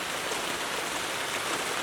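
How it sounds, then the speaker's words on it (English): Steady rain falling outdoors, a dense even hiss of drops on surfaces with no breaks, close and fairly loud, with no voices over it. "I just came outside to go inside to get my gear, and it's raining, dude"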